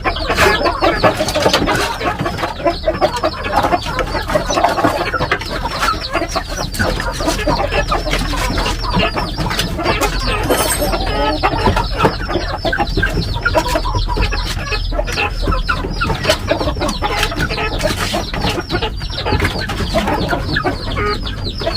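A crowd of young chicks clamour to be fed, keeping up a loud, dense, unbroken chorus of shrill peeping and clucking close by for the whole stretch.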